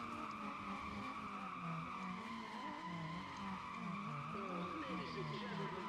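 Race car engine from Need For Speed ProStreet drones loudly and steadily with wavering pitch, mixed with continuous tire skidding and squeal throughout.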